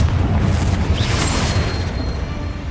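A deep booming blast from the Confringo spell in the video game Hogwarts Legacy, one heavy rumbling explosion that rolls on loudly and slowly decays over a couple of seconds.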